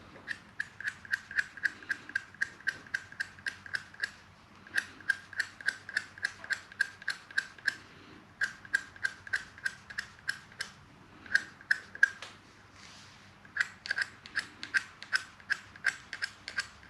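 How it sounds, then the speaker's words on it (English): A steel scraper is sharpened by hand in a guitar workshop during fretboard binding work, giving quick rhythmic rasping strokes in steady runs with brief pauses between them, close and crisp. "I'm just going to sharpen this with the scraper just quickly"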